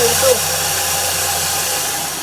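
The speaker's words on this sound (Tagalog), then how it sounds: "Pagkatapos, lalagay nyo dito. Tapos, gilingin." An electric grinder runs on Japanese rice with a steady whirring hiss that holds at an even level from start to finish.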